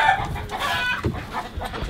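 Laying hens, including Jersey Giant and Barred Rock chickens, clucking and calling close by on a farm, a quick run of overlapping squawks and clucks in a short burst.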